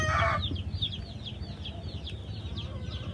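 Newly arrived chicks chirp in a brooder, a steady stream of high, rapid peeping calls repeating over a low background hum, with a brief louder noise at the start.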